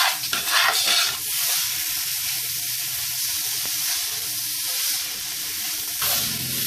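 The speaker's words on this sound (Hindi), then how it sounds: "और ये गाजरें ऐड करने के बाद हम इसको अच्छी तरह से घी में भून लेंगे।" Grated carrots frying in ghee in a pan for gajar halwa, a loud, steady close sizzle with hissing throughout and a brief stirring scrape near the start.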